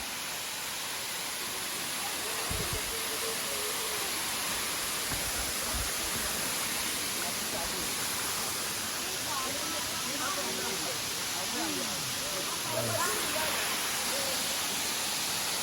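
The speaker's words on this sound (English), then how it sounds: "Waterfall." Choma Waterfall in Tanzania's Uluguru Mountains roars as a steady, dense rush of falling water, loud and unbroken from start to finish, with faint voices now and then beneath it.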